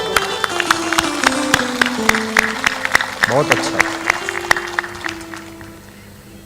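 An audience claps at a Hindu satsang religious discourse, with scattered, uneven claps over sustained instrumental tones. A voice speaks briefly and the clapping thins toward the end.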